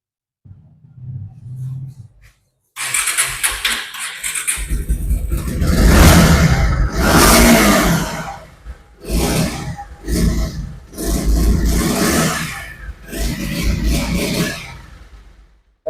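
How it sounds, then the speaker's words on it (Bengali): A second-hand Bajaj Pulsar or Apache motorcycle in a used bike showroom, its engine revving in repeated loud bursts that rise and fall, with short pauses between throttle blips after a quiet opening. "এই বাইকটা আপনাদের ইঞ্জিন সাউন্ডই শোনায়"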